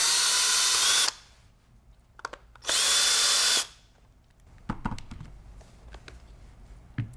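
A power screwdriver drives out the Phillips head screws from a Benelli 828 U over-and-under shotgun's recoil pad, whirring loudly in two bursts of about a second each, followed by quiet handling clicks and taps.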